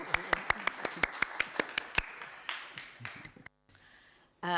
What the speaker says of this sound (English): Is it appropriate to give a quick round of applause?